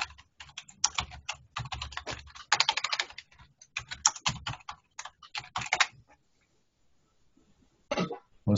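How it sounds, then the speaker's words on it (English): Computer keyboard typing during a law tutorial, bursts of rapid close clicking keystrokes for several seconds, then a pause before a final short flurry. "can you see what I'm typing?"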